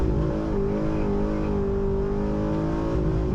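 A 2009 Pontiac G8 GT pulls hard through a quick acceleration, its engine droning loud and steady from inside the car with a slowly rising pitch and no talk.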